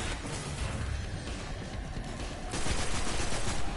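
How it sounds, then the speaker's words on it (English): Fusion rifle fire in the video game Destiny, with loud, dense crackling gunfire sustained throughout and a further burst of shots toward the end, up close. "So the fusion rifle will take down the shield pretty fast."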